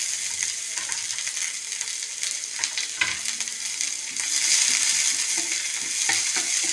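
Sliced onion with green chili, cumin and curry leaves fries in a hot pan, a steady close sizzle and crackle with occasional stirring scrapes, growing a little louder toward the end, no voices.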